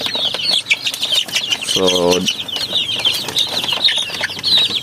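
A flock of upgraded native chickens chatters and clucks continuously in a farm pen, with one drawn-out call and some wing flutters amid the busy bird noise, while someone says a word.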